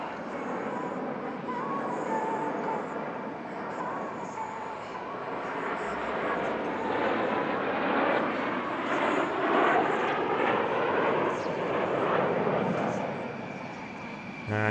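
A display team aircraft twists through a quarter clover loop at the Air Legend airshow at Paris-Villaroche, its steady broadband engine roar sustained at moderate distance and swelling slightly as the jet apexes toward the crowd.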